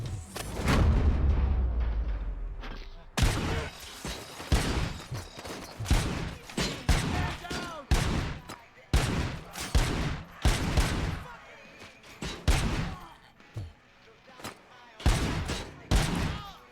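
Rapid 9mm gunfire in a video game, sharp shots ringing out in quick bursts and single cracks across the whole stretch, loud and close, following a low rumbling opening.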